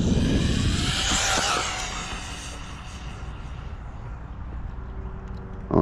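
An Arrma Typhon Grom BLX brushless RC car screams past at full throttle, a loud high-pitched motor whine that peaks early and then fades as the car pulls away into the distance.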